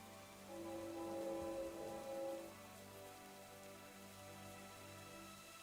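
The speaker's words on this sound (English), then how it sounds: "Get some lore accurate rain going." Rain falls in the Minecraft video game, a soft, steady hiss of rainfall heard quietly under a faint tonal hum.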